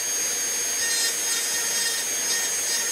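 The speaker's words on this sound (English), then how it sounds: "the high speed tool with that little diamond burr" A Dremel high-speed rotary tool with a small diamond burr grinds into a wooden gunstock, giving a loud, steady high-pitched whine with continuous abrasive rasping and no pauses.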